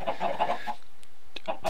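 Chickens in the Minecraft video game cluck in a short burst of quick clucks, followed by a pause and a few more brief clucks.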